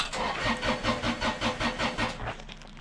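A diesel tractor engine cranks over after glow plug warm-up beside a firewood shed, a rapid rhythmic chugging that pulses steadily for a few seconds at moderate volume, with no talk.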